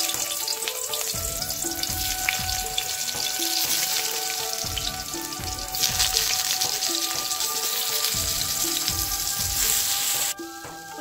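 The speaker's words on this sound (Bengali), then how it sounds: "তারপরে দেখো পটলগুলো ভাজতে শুরু করলাম।" Pointed gourd (potol) frying in oil in a pan gives a continuous, fairly loud sizzle. Low scraping thuds from stirring recur at regular intervals throughout.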